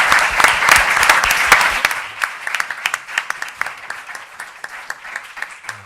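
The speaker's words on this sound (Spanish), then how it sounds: "Un aplauso, por favor." An audience at an academic conference applauds, loud dense clapping at first that thins into scattered, fading claps over several seconds.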